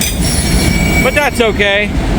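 A freight train with auto rack cars rolls past close by, a loud steady rumble with squealing wheels and clattering; someone speaks briefly over it.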